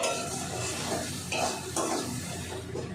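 Spices with red chili powder stir-fried in a pan for a fish curry, a soft hiss of frying under scraping spatula strokes against the pan, close and fairly quiet.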